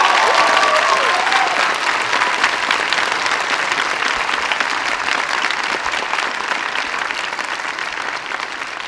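Loud, sustained applause from a large audience greets Yoshitaka Amano at an opening ceremony, a dense roar of clapping that holds steady throughout with some crowd murmur.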